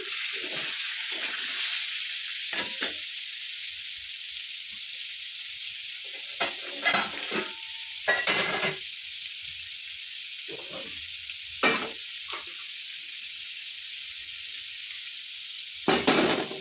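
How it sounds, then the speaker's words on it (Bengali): Paneer fries in a pan under a steady soft sizzle, broken by several short louder clatters and stirring knocks spread across the clip, with no voices. "পনিরটা একটু ভাজা হোক"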